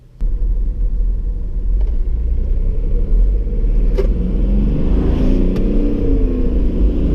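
A 2006 Smart CDI diesel car accelerates at full throttle from a standstill, with a loud, steady low engine rumble and drone that holds for several seconds, joined by a few faint clicks.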